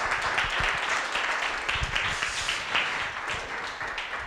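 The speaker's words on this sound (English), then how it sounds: "Can we give her a round of applause?" An audience gives a round of applause at a neighborhood master plan presentation evening, a steady wash of clapping that carries on throughout at moderate volume.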